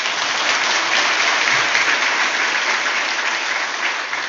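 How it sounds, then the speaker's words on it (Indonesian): Sustained audience applause at an academic oration, dense steady clapping from a large crowd that holds at a constant level throughout, with no voices rising above it. "Boleh tepuk tangan sekarang"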